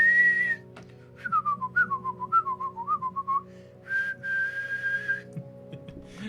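A person whistles an imitation of a train whistle: a long held note, then a wavering run of short rising and falling toots, then another sustained note, clear and close with no talking.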